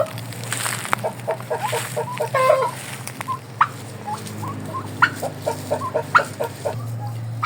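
Shamo gamecocks and turkeys in a backyard coop: steady gobbling and clucking fowl calls, close and fairly loud over a constant low hum, with short bursts repeating throughout.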